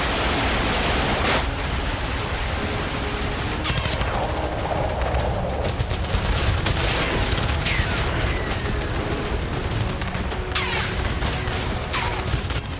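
Gunfire and explosions ring out from all sides during a guerrilla ambush on Israeli soldiers on a ground operation in Kiryat Shmona near the Lebanon border, with dense sustained crackling shots and booms, loud and continuous throughout, without speech.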